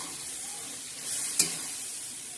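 Brinjal curry with tomatoes stirred in a pan, a soft steady hiss of cooking with one sharp scrape of the spoon partway through, close and fairly quiet.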